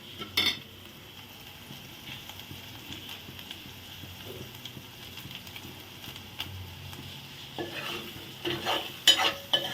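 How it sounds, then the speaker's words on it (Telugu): Taro root curry with chili powder and salt stirred in a pan, a soft continuous scraping and faint sizzle with occasional louder clinks of the spoon against the pot near the end. "మంచిగా కలుపుకోవాలి ఈ కారం ఉప్పు అంతా మంచిగా"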